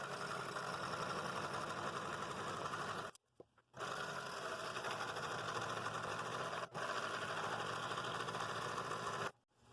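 Scroll saw cutting an oak board for a Christmas village piece, a steady dense buzzing drone running near and loud for about three seconds, cutting out briefly, then resuming for several more seconds before stopping.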